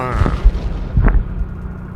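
Two deep, booming explosion bursts in the Roblox game Navy Warfare sound close and loud, with a voice heard briefly at the start.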